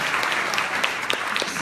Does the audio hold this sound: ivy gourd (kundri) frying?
no